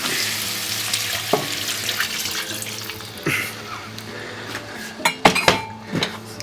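Stock poured into a hot pan for Polish paprika chicken hisses and sizzles, a steady watery frying rush with a few sharp clinks and splashes of a utensil near the end.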